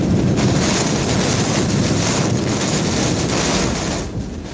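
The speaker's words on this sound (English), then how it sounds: "the extreme crosswind Hurricane Ian was hurling at us" Hurricane Ian's extreme crosswind batters the microphone as a loud, continuous roaring buffet of broadband noise with gusty surges that ease slightly near the end.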